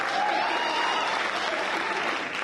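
Loud, dense applause from an audience at a spring vocal show fills the room, a continuous close wash of many hands clapping without any speech on top.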